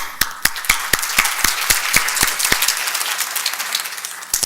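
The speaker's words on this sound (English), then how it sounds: "I'm used to the one-handed round of applause." Applause from a spelling bee audience, with a few sharp, distinct claps standing out over a dense, steady patter of many hands, fairly close and alone without talk.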